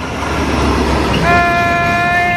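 A freight train passes close by with a loud, continuous rumble and rattle, and a steady horn-like tone sounds partway through.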